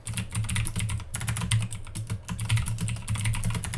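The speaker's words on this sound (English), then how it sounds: "we can begin typing our title" Steady typing on a computer keyboard as a title is entered, a dense run of quick key clicks close to the mic with no talk.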